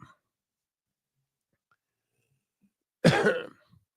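One short, sharp cough breaks an otherwise quiet stretch, close and clear.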